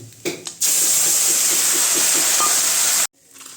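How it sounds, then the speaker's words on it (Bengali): Small fish frying in a pan of hot oil, a loud steady hiss and sizzle lasting about two and a half seconds, with a few faint clinks before it and quieter kitchen sound after. "এই যে ছোটো মাছ, এগুলো ভাজা হচ্ছে।"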